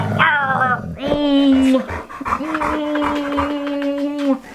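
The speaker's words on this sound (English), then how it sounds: "He's my dog." A pet dog growls and whines in long, drawn-out, tonal moans, loud and close, with a rising yelp at the start and a couple of sustained whimpering growls following.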